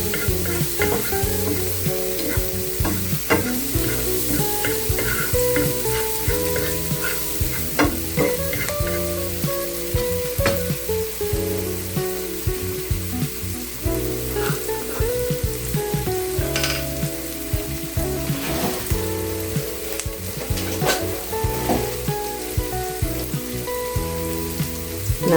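Moringa (drumstick) leaves frying with egg in a pan, a steady loud sizzle throughout with frequent scraping and stirring clicks of a spatula, no talking.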